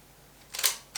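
A Dacora D101 Rapide film camera from West Germany being armed by a rotating control and fired, a short ratcheting winding noise followed by a crisp shutter click, close and alone.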